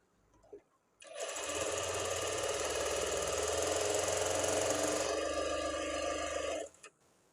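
A sewing machine stitches over lining fabric in one steady run of about five and a half seconds, a close, even motor hum with rapid needle clatter, starting and stopping cleanly amid quiet.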